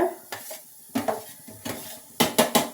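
Karonda (kavalekai) chutney ingredients roast in a pan while a spoon scrapes and clanks against the metal in irregular bursts, with a faint sizzle beneath, up close and without talk.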